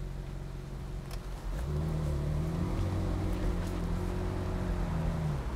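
Ferrari 458 Italia engine pulling away, a loud steady drone that jumps up in level and pitch as the car sets off, then holds a strong sustained note with rising harmonics.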